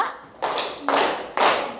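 A classroom of students claps in unison, three sharp, loud group claps evenly spaced, each a crisp burst from many hands.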